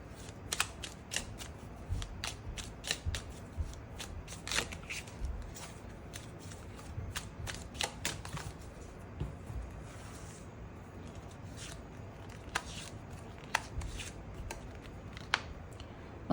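Tarot cards are shuffled and drawn by hand, giving a close series of irregular papery flicks and riffling snaps over a quiet background, with no talking.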